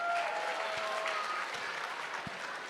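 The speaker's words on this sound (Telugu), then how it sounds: "సో వాళ్ళ కోసం ఇంకోసారి గట్టిగా చప్పట్లు కొట్టండి." Applause from the audience at an Ugadi celebration after a children's group skit, a steady wash of clapping from many hands, moderately loud and sustained, with a few sharp individual claps standing out.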